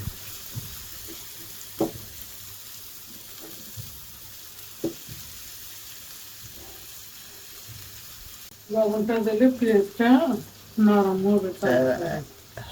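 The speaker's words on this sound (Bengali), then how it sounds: "তো আমরা একটু পেঁয়াজটা ভেজে নেই" Chopped onions and garlic fry in a pan with a soft, steady sizzle, punctuated by occasional stirring knocks, before a person starts talking over the cooking.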